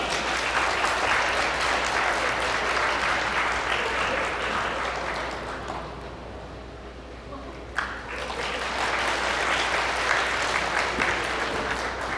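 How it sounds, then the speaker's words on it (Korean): Wedding guests in a hotel grand ballroom applaud the groom's mother, a sustained crowd clapping that dips mid-way, then swells again with a brief sharp knock, over a low steady hum. "우리 신랑 어머님 여러분의 박수로 함께 모시겠습니다"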